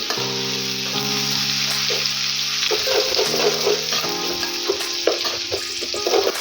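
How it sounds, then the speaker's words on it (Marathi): Ginger-garlic paste fries in hot oil over a low flame for potato kurma, giving a steady close sizzle with soft stirring scrapes and a low tonal hum underneath, and no talking. "यामध्ये आपण टाकणार आहोत आलं लसूणची पेस्ट। गॅस बारीकच ठेवायचा आहे, नाहीतर आलं लसूणची पेस्ट करपून जाईल।"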